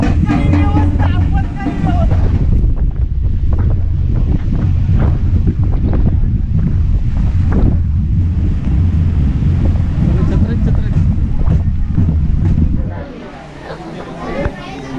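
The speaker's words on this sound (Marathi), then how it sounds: "वारा जबरदस्त आहे बघा" Strong wind buffets the microphone in a steady roar over a village, with heavy rain underneath, continuous and loud throughout.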